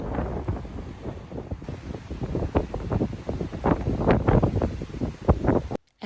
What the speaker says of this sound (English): After our walk through the wind tunnel